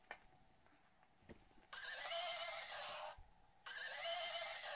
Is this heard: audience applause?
no